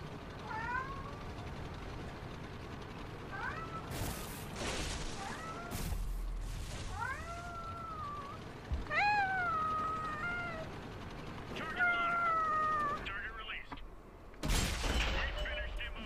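A cat meows repeatedly in rising and falling calls over a dense background of tank-battle gunfire and explosions in a World of Tanks match with a T20 American medium tank, with occasional loud blasts between the meows.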